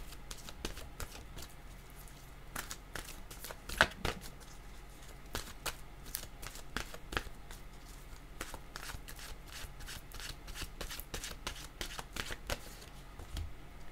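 A deck of oracle cards is shuffled by hand in steady, rapid riffling bursts for about fourteen seconds, close up and fairly quiet, with one sharper tap partway through and no voice.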